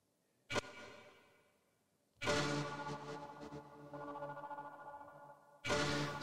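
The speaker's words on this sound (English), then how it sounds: "So we have this very strange sound here. I call it stingers. It's kind of like synth." Ringy synth stingers for game trailer music: a short sharp hit, then a longer metallic ringing swell with a reversed, stringy texture, then another abrupt hit, all fairly faint and with no talking.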